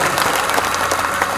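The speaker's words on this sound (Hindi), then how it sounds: "एक बार आचार्य जी के लिए जोरदार ताली बजाए उनका अभिनंदन करें" An assembled congregation at a religious discourse claps loudly for the Acharya, a short burst of dense, continuous applause at steady volume.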